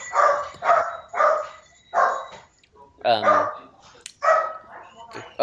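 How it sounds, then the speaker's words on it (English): Dog barking on a Star Wars film soundtrack: a run of four sharp, loud barks, then a yelping whine and two more barks, with voices talking over parts of it. "that doggy's loud"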